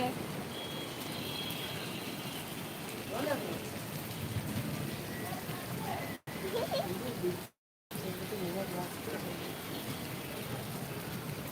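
Dense, continuous rain noise fills the scene, briefly cutting out twice; a faint voice is barely noticeable in the downpour.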